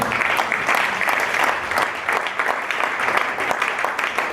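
A church congregation applauding, heard as steady, continuous clapping from a crowd that fills the room at moderate loudness throughout.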